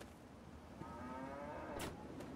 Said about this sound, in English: It's good cow sound.